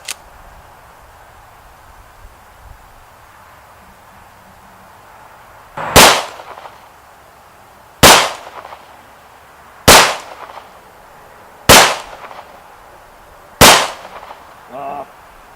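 Five sharp, loud reports from an H&K P30 pistol crack out at an unhurried pace, roughly two seconds apart, over a quiet outdoor range background.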